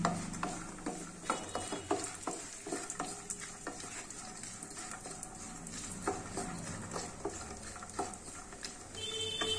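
A sugar-free dry-fruit and nut laddoo mixture is stirred lightly in a pan, producing continuous scraping, rattling and clicking of nuts against the metal at moderate closeness, with no talking.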